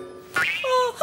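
A person imitates a cat's meow, a single rising then falling whiny vocal mew, close and fairly loud, in a Spanish-language Garfield cartoon.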